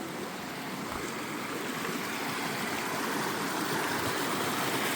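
Creek feeding the Poudre River at a Colorado campsite, a constant broadband rush of flowing water, steady and moderately close with no voices.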